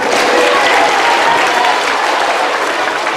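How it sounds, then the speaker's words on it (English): At a middle school assembly, an audience claps steadily for a volunteer. The applause is dense, even and fairly loud, filling the whole stretch with no talk over it. "Give a round of applause."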